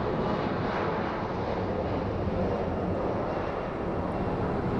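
A passenger airplane taxis at Phoenix Sky Harbor International Airport, its engines producing a steady, unbroken broadband roar that holds at an even level throughout, with no talk over it.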